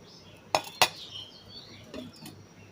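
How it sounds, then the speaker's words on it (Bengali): A lid clinks twice onto a serving bowl of soaked sago, two sharp close knocks in quick succession followed by a softer clink in a quiet room. "একটা ঢাকনা দিয়ে ঢেকে রাখছি"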